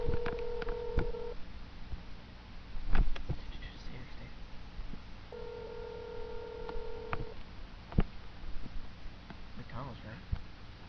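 Telephone tones sound at the start of a prank call: a couple of steady beeps, separated by pauses, with clicks and handling noise and voices talking in the background.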